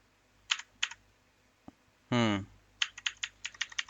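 Keys on a computer keyboard are pressed one at a time and then in a quicker run of clicks, close by, with a brief voice in the middle.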